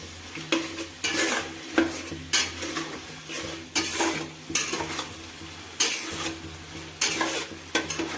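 Potatoes stirred into frying spiced masala in a pan, rhythmic scrapes of a spoon against the pan roughly every second over a constant close sizzle, with no talk.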